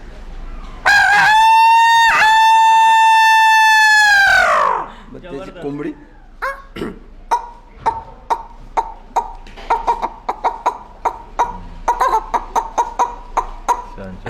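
A man imitates a rooster crowing: one long, loud, drawn-out cock-a-doodle-doo up close, followed by a string of short sharp clicks and clucking sounds.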